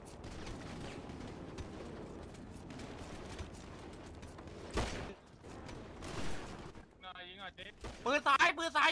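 Rapid gunfire fills a battle royale video game match, with dense overlapping bursts of shots throughout and a sharper cluster of loud cracks near the end, mixed with game noise and voices talking over it.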